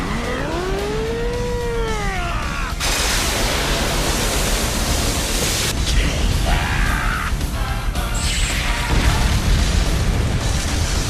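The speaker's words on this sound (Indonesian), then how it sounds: "Ledakan besar pun memenuhi arena," A sudden, heavy blast of broadband noise erupts after a whooshing, swelling tone, followed by a sustained roaring rumble with scattered crackles and debris.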